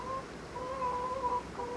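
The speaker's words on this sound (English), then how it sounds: "And obviously we have the laying hens" Laying hens cluck softly nearby in a garden setting, giving a few short, murmuring calls spread through the moment with no talk over them.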